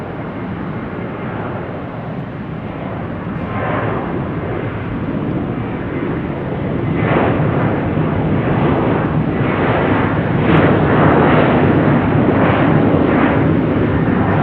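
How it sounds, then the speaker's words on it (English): A Boeing 737-800 rolls down runway 34 right at Salt Lake City Airport for takeoff, its engine roar a broad, steady rumble that grows louder and fuller over the span, heard alone at a distance. "737-800 getting ready to roll down runway 34 right"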